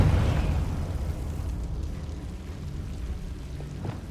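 A loud explosion from the Confringo blasting spell in Hogwarts Legacy bursts at the start, then decays into a long crackling, rumbling tail that fades over several seconds.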